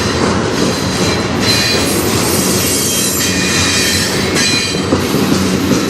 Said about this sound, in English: But this is the first train.